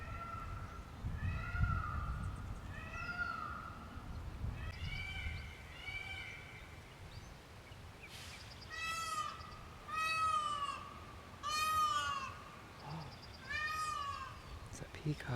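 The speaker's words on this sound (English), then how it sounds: "The second you arrive, you can hear the beautiful peacocks" Peacocks roaming a cemetery give loud, repeated wailing calls, some in quick bursts of two or three, ringing out over outdoor background noise with low rumbling nearby.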